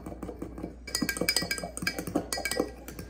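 Honey and olive oil mixture being stirred in a bowl, a rapid run of bright clinks and taps as a utensil strikes the bowl's sides in quick rhythm, close and clear.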